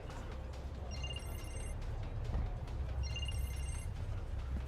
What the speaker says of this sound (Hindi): फोन आ रहा है तुम्हारा।